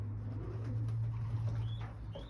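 Racing pigeons coo softly in a loft, a few low rolling calls over a steady background hum, moderately close and without any talk.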